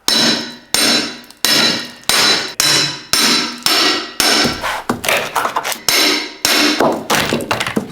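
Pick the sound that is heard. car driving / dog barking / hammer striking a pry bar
hammer striking a pry bar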